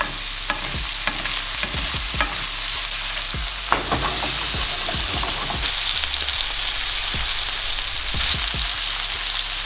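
A sirloin steak sizzles loudly in a hot pan while being basted with butter, a constant frying hiss broken by repeated sharp spoon scrapes and splashes at a quick, uneven rhythm.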